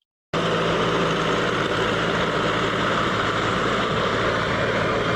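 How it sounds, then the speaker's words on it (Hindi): A tractor pulls a cultivator through a field to loosen the soil, its engine a steady, loud, low rumble that starts abruptly and runs on without a break, with no talking. "वो कल्टीवेटर ट्रैक्टर से अटैच था और सॉइल को लूज कर रहा था।"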